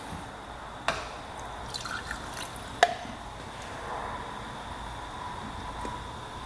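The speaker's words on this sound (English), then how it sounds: "now, we'll pour gas in it" Gasoline poured into the fuel tank of an old Russian military motorcycle, a steady liquid trickle and splash with a few sharp metallic taps, close and fairly quiet, with no talking.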